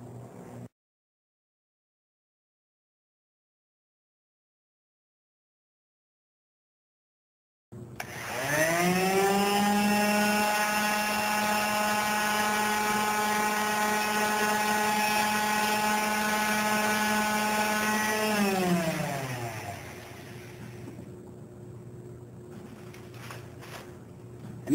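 A power sander works over the rubberized keypad of an Intermec CK3 or CK71 rugged mobile computer, starting after a silent gap as a loud steady motor whine with a grinding edge, holding for about ten seconds, then winding down.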